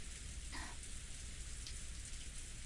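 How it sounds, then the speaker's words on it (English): Steady rain falls in a dense, even hiss with no voices, part of a rainy scene in the visual novel Umineko. "雨、とうとう降り出したのね。"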